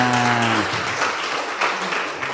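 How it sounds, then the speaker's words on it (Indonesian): Students clapping their hands together in a classroom, a short burst of dense applause-like claps that rises quickly and continues steadily for a couple of seconds. "untuk menghilangkan rasa kantuk kita tepuk tangan dulu"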